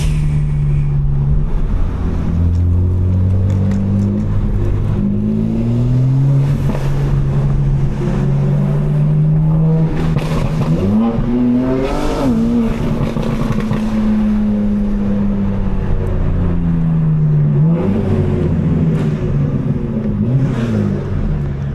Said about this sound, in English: I'm gonna start putting a mic on my intakes, y'all. They just be sounding so good.